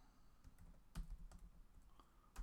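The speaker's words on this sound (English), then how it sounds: "That's too much typing." Someone types on a computer keyboard nearby, a quiet irregular run of soft key clicks with a few louder taps, and no talking.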